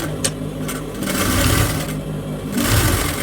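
A sewing machine stitches aso-oke fabric for a ruffled headband, running in a loud, close whirring burst that slows briefly mid-way and then speeds up again, with no talk.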